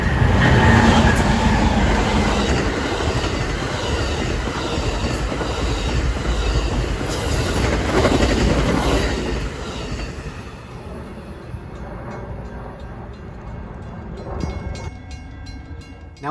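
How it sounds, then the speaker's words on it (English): An Amtrak long-distance passenger train led by two ALC locomotives, engines 308 and 310, rolls past heading into Chicago. It makes a loud steady rumble of wheels and cars that gradually thins as the train moves away. "it was two ALCs leading the charge into Chicago 20 minutes early"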